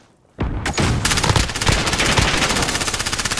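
Rapid automatic gunfire from a Call of Duty Modern Warfare match starts abruptly after a brief hush, with a few heavy opening shots before settling into a loud, sustained, evenly pulsing burst that runs to the end.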